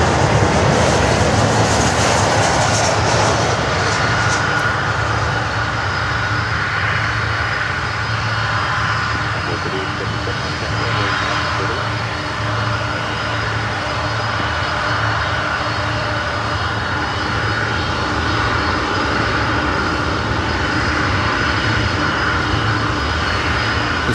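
A Martinair Cargo Boeing 747 with four CF6 jet engines roars loud and close, a sustained, layered engine drone with steady whining tones, no voices over it.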